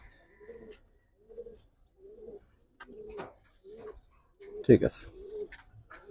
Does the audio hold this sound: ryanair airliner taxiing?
no